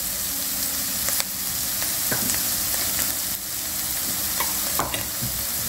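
Lemon zest stirred in a frying pan for a Thai lemongrass chicken dish, with a steady sizzle and repeated scraping strokes of the spoon against the pan.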